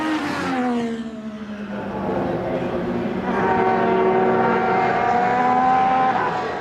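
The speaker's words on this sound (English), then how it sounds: "drives his uncle's championship-winning McLaren MP44" A 1988 championship-winning McLaren MP4/4 Formula One car at the Goodwood Festival of Speed, its engine note sweeping down and then climbing again in a long, loud, tonal rev that holds strong to the end.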